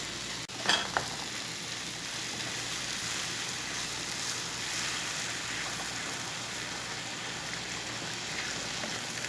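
Beetroot halwa simmering and being stirred in a pan, with a steady soft sizzle and a few light scrapes near the start, continuing evenly without talk.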